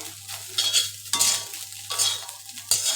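Shredded chicken fries in a pan for a spicy hand-pulled chicken fry, with repeated stirring scrapes and a steady sizzle close by, no voices.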